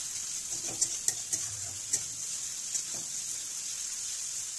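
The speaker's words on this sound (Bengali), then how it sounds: "রসুন বাটাটা 1 থেকে 2 মিনিট নাড়াচাড়া করে একটু ভেজে নিলাম।" Garlic paste fries in a pan for a chicken dish, a steady soft sizzle with a few light scrapes and taps as it is stirred, close and fairly quiet.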